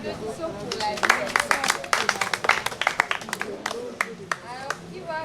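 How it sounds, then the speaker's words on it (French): Scattered clapping from an audience at a cultural day event, uneven and loose with sharp individual claps standing out, while voices talk over it. "Applaudissons pour la vie."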